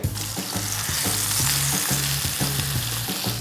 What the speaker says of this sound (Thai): เอาแซลมอนที่เราปรุงเกลือพริกไทยเรียบร้อยแล้วลงในด้านหนังเลย